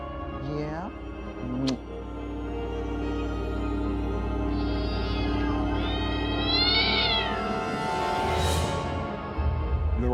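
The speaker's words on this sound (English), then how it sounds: "these are loving, doting cats" A kitten meows close by several times, with high, wavering cries rising over background music while a person talks.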